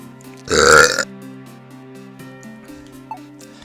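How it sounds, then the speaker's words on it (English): A single loud, throaty burp lasting about half a second, close to the mic, followed by quiet background sound. "I just burped."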